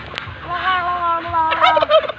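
A turkey-like fowl gobbles in a rapid, warbling burst, then again more loudly, close by with faint background noise.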